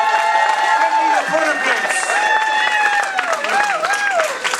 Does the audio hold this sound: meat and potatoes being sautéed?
no